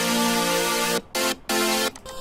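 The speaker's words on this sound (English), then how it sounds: "And first synth sounds like this." A bright, buzzy synthesizer tone sustains, then plays two short chopped notes and a brief fading tail, with no voices.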